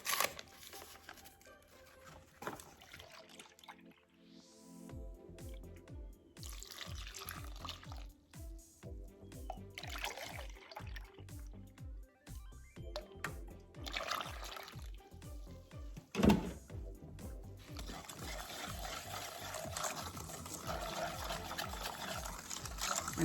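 Milk being poured for instant vanilla pudding, a faint liquid pour and trickle over a background of steady rhythmic music, with a soft knock midway.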